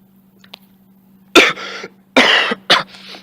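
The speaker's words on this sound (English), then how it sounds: "sorry, I'm coughing." A person coughs and clears their throat in a quiet room, with a low steady hum underneath. A small sound comes first, followed by three harsh, close coughs spaced about a second apart.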